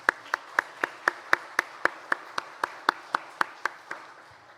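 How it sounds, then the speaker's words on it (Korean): A single person clapping in a church service, a steady, even rhythm of about sixteen sharp claps spaced evenly apart, fairly close and clear with no talking. "우리 이 모든 영광 하나님께 영광의 박수 한번 돌리겠습니다."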